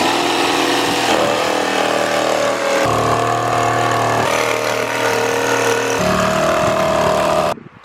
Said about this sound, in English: I'm going to use the jigsaw to connect the dots